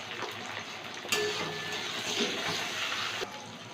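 Chopped tomato frying in a pan with browned onion and turmeric, a steady close sizzle with faint stirring scrapes and a couple of sharper clinks.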